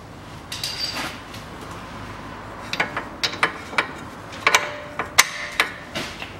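A ratchet wrench with a 17 mm socket works a bolt on a 2010 Chery Amulet front hub, giving a series of sharp metallic clicks that grow denser and louder toward the end, with quieter mechanical handling noise in between.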